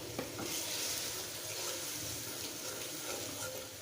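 Cumin paste and ginger-garlic paste sauté in oil in a pan for a fish curry. The sizzle is steady and fairly loud, with faint stirring scrapes and no voices.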